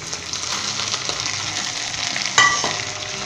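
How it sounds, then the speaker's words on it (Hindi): Carrot strips stir-frying in a pan give off a steady sizzle, with a sharper clink of a utensil against the pan partway through. "और जस्ट हम इसे 5 से 6 मिनट के लिए हिलाते हुए स्टर फ्राई करेंगे"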